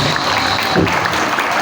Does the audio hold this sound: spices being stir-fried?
no